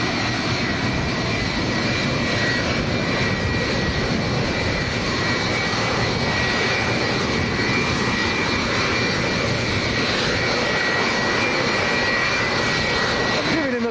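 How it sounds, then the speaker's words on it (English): An aircraft on approach to Lanzarote Airport in a strong crosswind, its engines giving a loud, steady roar that fills the whole stretch, mixed with rushing wind noise. "See an aircraft on approach at the moment."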